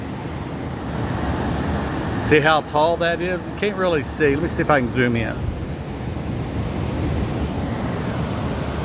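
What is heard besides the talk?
water rushing into a canal lock as the gate opens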